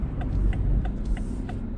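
Cars passing on a road, heard from inside a stationary BMW 530e M Sport as a low continuous rumble and tyre roar, with a faint rhythmic ticking over it.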